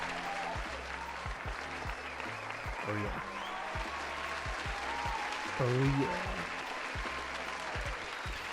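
Continuous canned crowd applause playing on a Warhammer 40k build livestream, an even wash of clapping that runs the whole time while someone speaks briefly over it.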